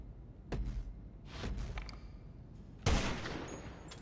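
Gunshots crack at the bunker shooting range in GTA Online, with no voices. A few separate shots ring out at a moderate distance, followed by a sharper, louder burst near the end.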